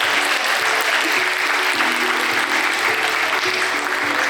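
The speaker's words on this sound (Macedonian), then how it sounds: "Аплауз!" Audience applause at a nursing week awards ceremony, a dense, steady clatter of many hands clapping that fills the whole stretch with no voices standing out.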